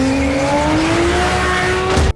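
A Lykan Hypersport supercar roars as it accelerates hard, engine pitch climbing steadily while tires squeal, loud and close, cutting off abruptly at the end.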